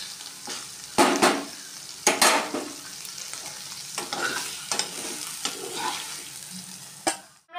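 Paneer frying with a pinch of salt in a pan for butter paneer, steady close sizzle broken by several sharp stirring scrapes and clatters, with no talking.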